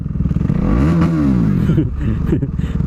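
A motorcycle engine revs up close and loud, its pitch climbing and then falling back to a rough, clattering idle.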